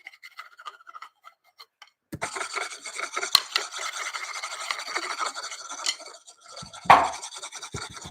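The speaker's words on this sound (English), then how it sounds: "I did this thing with the drumsticks, just rubbing them against each other like I was sharpening a knife" Two wooden drumsticks rubbed against each other in long scraping strokes, like sharpening a knife, giving a steady rasping friction that runs for several seconds after a few light taps, ending in a louder scrape.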